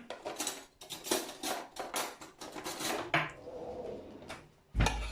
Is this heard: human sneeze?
no